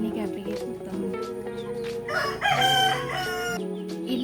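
A rooster crows loudly near a coop for native country chickens, with clucking from other fowl around it and voices in the background.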